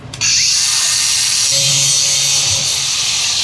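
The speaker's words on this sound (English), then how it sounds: "I'm gonna lop that end off where the weld is so we can weld it back together." A power tool cuts through the welded end of a steel pipe on a race car under build, a loud steady high-pitched grinding whine that runs almost the whole time with no pause.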